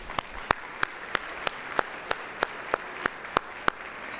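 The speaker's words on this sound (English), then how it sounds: "Can you give yourselves a round of applause" Audience in a meeting room at the New Orleans Business Alliance 2019 annual meeting applauds steadily, with sharp, evenly spaced claps standing out above a continuous wash of clapping for about four seconds.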